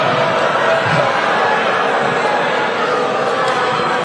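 Angry crowd of political rally supporters booing after a speaker arrived hours late for his speech at an NRA annual meeting, a dense, steady roar of many voices holding loud throughout.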